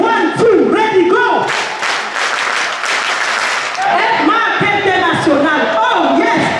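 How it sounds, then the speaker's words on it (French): A crowd at a live event claps and cheers loudly, with whoops and raised voices running through a continuous wash of applause from start to finish. "Est-ce qu'on peut donner une acclamation exceptionnellement à cette compagnie qui nous permet de quitter de 0 en 0?"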